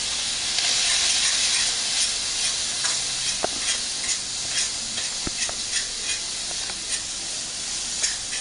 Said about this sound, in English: we're just going to let the veggies and the bacon sausage all mix in a bit there over the high heat